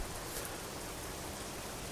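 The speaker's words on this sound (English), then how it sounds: "I really like the sound of rain here." Steady broadband rain hiss in American Truck Simulator, falling evenly and continuously at moderate level with no voices over it.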